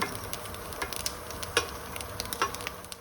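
Onion, ginger and garlic roast in a hot pan for a country-style chicken curry, giving a steady soft sizzle broken by irregular crackles and pops, close and moderately quiet, with no talking.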